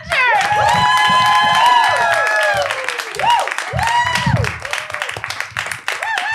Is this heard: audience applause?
yes